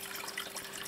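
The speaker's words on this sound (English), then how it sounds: "we have water gushing into the aquarium" Water from a siphon in a solar-powered off-grid aquaponics system gushing into an aquarium: a brief, steady splashing rush of flowing water, moderately close and unbroken, with no voices.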